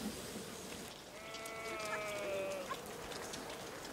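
A sheep or goat on a monastery farm in Kaufbeuren, Allgäu, gives one drawn-out wavering bleat at a distance, faint beneath steady rain-like hiss and background noise.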